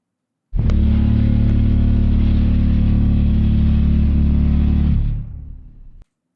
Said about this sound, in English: That's Chernobyl's sound when it arrives